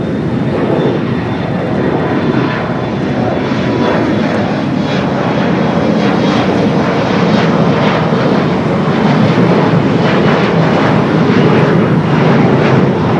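An Alaska Airlines airplane taking off from runway 25 right at LAX, a loud, sustained engine roar that builds steadily and fills the whole stretch with broadband rumble and no voices.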